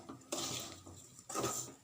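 Semolina and cooked vegetables stirred in a pan for upma, with a metal spoon scraping and clinking against the pan in two bursts of activity, close and moderately loud, with no talking.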